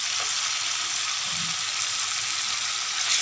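Catla fish sautéing and frying in a pan, a steady, dense sizzle that holds evenly and close throughout with no voices over it.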